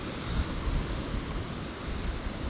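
Ocean waves breaking near shore beside a statue, a steady broadband wash of surf with some wind rumble, continuous and moderately loud throughout.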